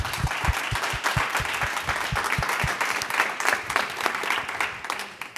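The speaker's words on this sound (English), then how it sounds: "Let's give it a round of applause for our panelists" Audience applause for a panel of speakers at a conference session, with dense, sustained clapping from a crowd and a few sharp individual claps standing out near the front.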